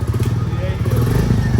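A new Royal Enfield Bullet motorcycle's engine fires up close by, settling into a rapid, pulsing thump, with voices talking over it.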